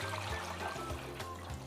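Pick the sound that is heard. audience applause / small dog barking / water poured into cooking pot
water poured into cooking pot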